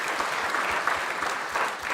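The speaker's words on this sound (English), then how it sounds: "Round of applause for these volunteers too, please." Church sanctuary audience applauding volunteers at an old-fashioned Christmas event, a full, even burst of clapping from many people, moderately close and continuous.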